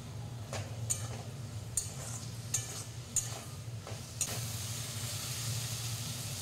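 Fish curry with onion stalks, eggplant and potato cooking in a pan, a steady quiet sizzle under a low hum, punctuated by several sharp clinks of a spoon stirring against the pot at a loose rhythm.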